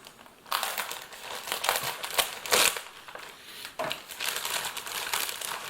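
A big plain foil bag holding a Finnish army 24-hour ration is torn open and handled, giving close, continuous crinkling and crumpling with sharper crackly bursts throughout, no voices.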